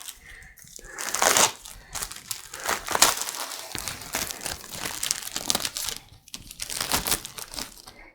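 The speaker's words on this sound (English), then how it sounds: "when you're opening Apple products, you know that it's an Apple product by their packaging" Crinkling and tearing of Apple product packaging being opened, with crisp bursts of plastic and paper handling near the mic across the span and a brief pause near six seconds.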